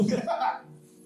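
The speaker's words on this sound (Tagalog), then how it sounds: "Kung kailan klaro mic natin, ubuhan mo." A single close, sharp cough bursts out right at the mic, then trails off into quiet low background hum.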